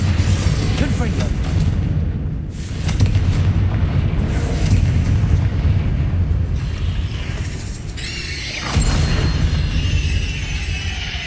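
Repeated booming spell blasts from the Confringo fire spell in the Hogwarts Legacy game, heavy low-end bursts rolling over sustained battle noise, loud and close, with a sharp crackling burst near the end.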